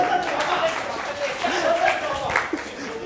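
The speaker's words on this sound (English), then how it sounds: "Let's have a clap for him." Audience clapping at a talk on emotional intelligence, a loose scatter of hands with voices talking faintly over and through it.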